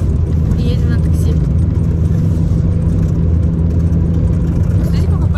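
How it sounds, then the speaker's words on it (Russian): From inside a moving taxi, a steady low engine and road rumble drones on without a break, loud and close, with a voice talking over it. "И едем на такси."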